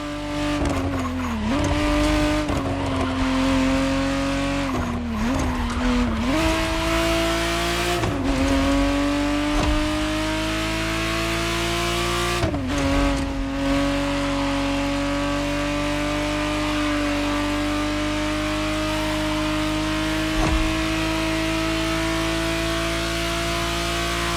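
A 1991 Ferrari Testarossa is driven hard in The Crew Motorfest racing game. The loud engine drones steadily throughout, its pitch climbing through the gears and dropping sharply at several shifts, with no one talking.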